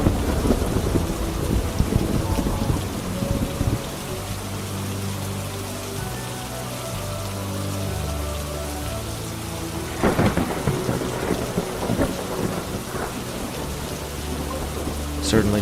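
Steady rain pours through a night thunderstorm in the video game Murder Diaries, with heavy rolling thunder at the start and sharp cracks near ten seconds, all close and loud with no talk.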